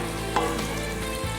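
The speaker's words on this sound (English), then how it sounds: "So I'll add a teaspoon of crayfish, give that a mix, and let that fry for about 10 to 15 seconds." Crayfish frying with oil in a pot for seafood okra makes a steady, close sizzle, with a brief stirring scrape near the start and no voices.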